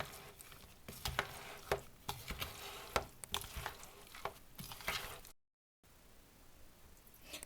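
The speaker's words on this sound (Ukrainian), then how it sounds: "І тепер все перемішуємо і наша начинка готова" Meat filling being stirred with salt in a bowl for meat triangles wrapped in chicken skin: close, wet squishing and scraping strokes in an uneven rhythm, ending with a brief silence and then a quieter tail.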